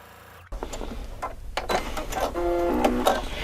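A sewing machine stitches fabric pieces for crazy quilting, starting abruptly with a close, rapid mechanical whir and rattle that speeds up and grows louder.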